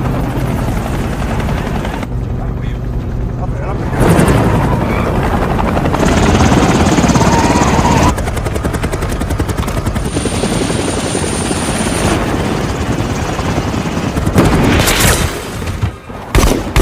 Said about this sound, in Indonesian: helikopter tim Matt akhirnya berhasil mengejar Gallo serta para anak buahnya